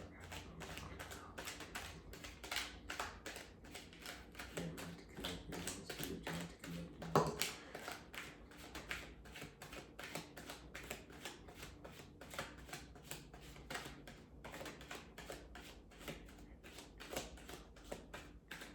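Tarot cards being shuffled steadily and continuously, a quick rhythmic riffle of card edges with one brief louder slap partway through, close up.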